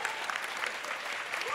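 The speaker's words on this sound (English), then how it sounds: "Give them a clap," Audience at a live quiz show clapping steadily for a team, a dense sustained round of applause filling the room with no pause.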